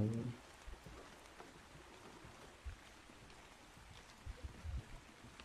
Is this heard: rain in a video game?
yes